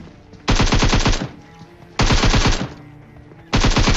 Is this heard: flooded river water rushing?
no